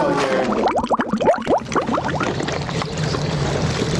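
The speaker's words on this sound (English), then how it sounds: "Listen to the bubbling gases as the comet forms." Dry ice bubbles and gurgles in a liquid mixture while a model comet is being made, a burst of rapid popping bubbles up close that settles into a softer, steady fizz.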